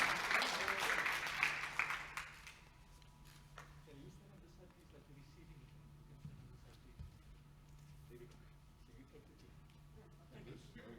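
Audience applause at the Cape Town Tourism AGM for Lizanne and the Jeep Tours Cape Town team, a dense burst of clapping for about two seconds that quickly fades into a quiet room murmur.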